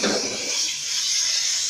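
Garlic and vinegar tasha hitting a hot pan for an Egyptian home-cooked dish, a loud broad hiss that bursts up at once and keeps sizzling steadily, close by with no talk.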